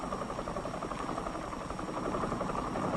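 A Chinook helicopter engine, filmed around 1966 in Vietnam, gives a faint, steady droning buzz with a low vibrating hum that carries on without a break.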